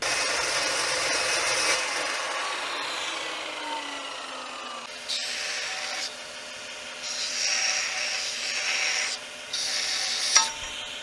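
A stainless steel wire brush scrubs and rasps across metal parts during a build on a box truck, giving steady close scraping strokes with a few louder bursts and sharper scratches, with no voices.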